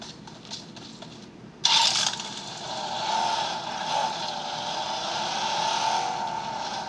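A loud car engine in a video game on a realme 10 smartphone roars to life and keeps running steadily, revving with a synthetic, game-like tone and no talking.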